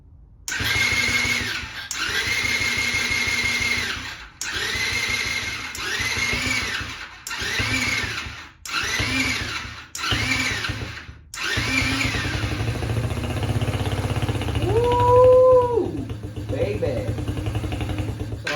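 A 50cc Tao Tao Chinese quad's small engine cranks in several short bursts, then catches and runs with a steady buzzing idle, loud and close, with a brief rev near the end.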